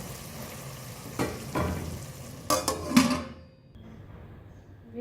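Cooked mash dal served from a pot: a few metal spoon scrapes and clinks against the pot at a steady pace, ending in near silence.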